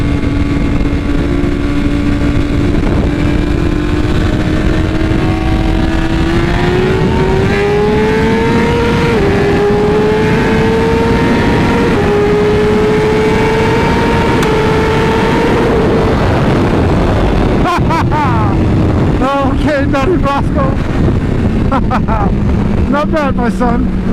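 BMW HP4 superbike with a Brentuning ECU flash, its engine screaming at high revs during a wheelie, a loud sustained note that climbs and then falls away, with wind noise and people talking over it.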